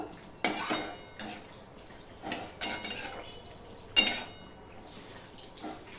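A pot lid lifts off with a metallic clank and a spoon stirs sweet pumpkin shaak in the pot, giving a few separate scraping, clinking bursts against a quiet kitchen background.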